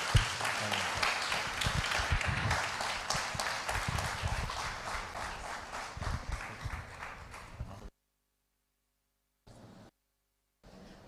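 A church congregation claps loudly and steadily to welcome Pastor Gras, dense rapid clapping for about eight seconds before it stops abruptly, followed by near silence with two brief faint bursts.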